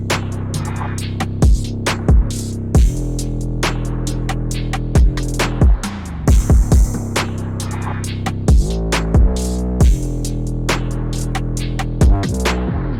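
A dark, bouncy hip-hop drum loop with booming, pitch-bending 808 bass, crisp hi-hats and an open hat, playing loud and alone in a steady repeating pattern.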